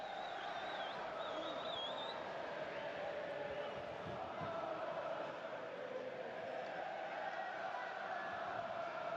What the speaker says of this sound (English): it's lifted that St Mary's crowd, where you can probably hear in the background as well